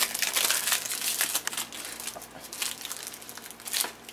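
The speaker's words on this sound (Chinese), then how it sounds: "上面这些哈胶带哈，我们必须把它撕下来哈" Clear adhesive tape is peeled off bathroom tiles after grouting, a close series of crinkling, crackling rips in irregular bursts, loud and uneven throughout, with no speech.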